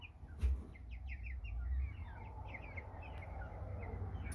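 Faint, scattered chirps from a group of nine-week-old American Bresse chickens in a grow-out flock, with soft peeping notes over a low rumbling background.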